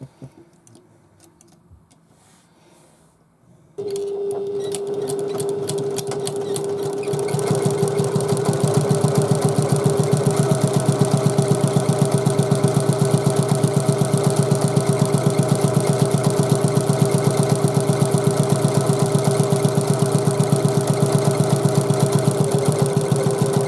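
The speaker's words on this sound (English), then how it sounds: "I'll take it to the machine and stitch along the edge." A sewing machine stitches along the edge of a handbag after a few quiet handling sounds. It starts abruptly, then settles into a loud, fast, steady running hum with a rapid needle rhythm that continues alone to the end.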